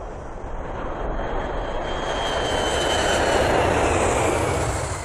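A TWA Flight 74 airliner from Frankfurt lands at an airport, a loud, sustained engine roar with a whining tone that builds steadily and then holds close by.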